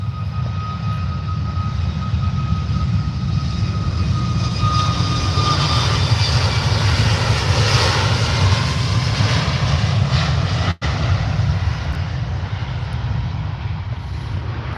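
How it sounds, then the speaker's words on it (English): A TUI airliner taxiing out at Manchester Airport: a steady, loud jet engine roar with a thin whine, continuous for the whole stretch, with a brief dropout near the end and no talking. "We do have this TUI on the taxi out."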